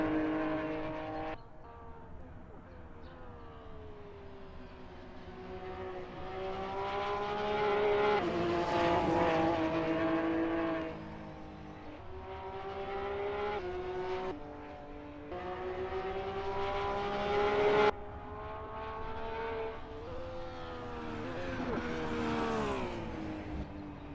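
Lamborghini Huracan GT3 race car engine in Assetto Corsa at Watkins Glen, a loud continuous harmonic roar rising and falling through gear changes, with several upshifts and revving across the lap.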